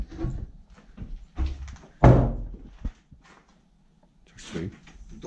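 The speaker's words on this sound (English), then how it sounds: "The door got stuck and it scared the hell out of me." A stuck door in an old women's prison is forced, giving a heavy wooden thunk and scrape among several bumps, with people speaking quietly before and after.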